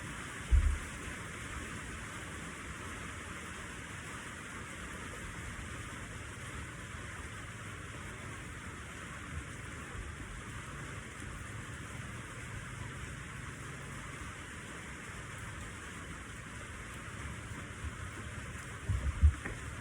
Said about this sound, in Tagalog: Kanina pa po umaambon. Malakas ang ambon.